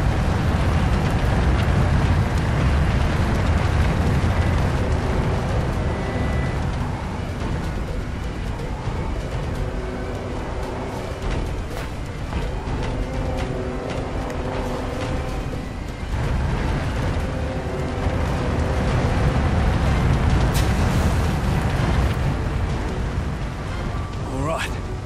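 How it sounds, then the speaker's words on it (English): A ship breaks apart amid fire and explosions in the video game Dead Island Riptide: a loud, continuous low rumble with heavy booming bursts and creaking, while a voice talks over it. "Damn ship's coming apart."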